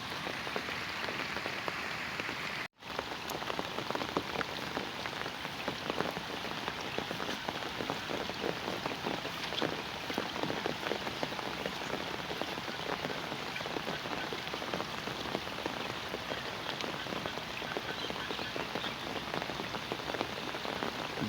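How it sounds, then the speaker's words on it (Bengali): Heavy rain pours down in a village by the Padma, a dense, even roar of drops striking surfaces that continues unbroken apart from one very short dropout near the start. "প্রচুর জল হয়েছে বৃষ্টি"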